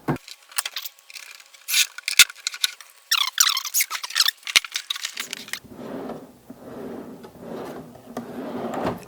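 A wooden cherry armoire drawer slides out along its runners with scraping, squeaking wooden rubs and small clicks, close and fairly loud, followed by a steadier low rumbling slide.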